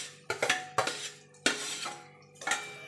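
Grated potato stirred into fried spice masala in a pan over low heat, with a spoon repeatedly scraping and clinking against the metal in short, rhythmic strokes, close and fairly loud.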